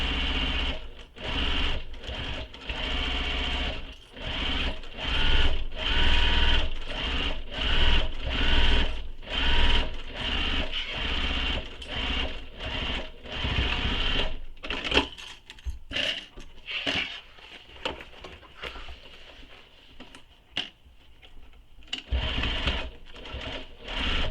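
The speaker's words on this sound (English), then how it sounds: "Now we're going to baste these together, and you can use a long stitch length for this because you're just basting." A sewing machine runs long basting stitches along the seam allowance of a backpack's fabric pieces, fast and loud up close. The mechanical chatter is steady for about fifteen seconds, then breaks into short bursts and pauses.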